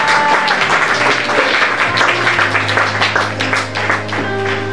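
A church congregation applauding during a worship service, loud, dense and sustained clapping from many hands, with a held tonal sound, probably music, continuing underneath.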